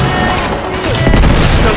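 Rapid turret gunfire in the action game Uncharted 3: Drake's Deception, loud bursts of shots and heavy thuds packed into a short, intense volley.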